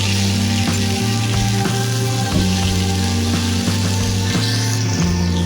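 Pumpkin, carrot and chopped onion frying in hot oil, giving a continuous close sizzle over a steady low mechanical hum with faint periodic clicks.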